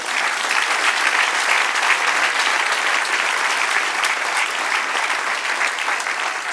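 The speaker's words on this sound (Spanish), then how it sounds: "Dale otro aplauso al Señor." Loud, steady applause from a large crowd at a church service, sustained without a break throughout.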